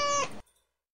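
Freshly woken cat giving one short, loud, grumbling meow close by that cuts off abruptly, followed by a faint rustle and then silence.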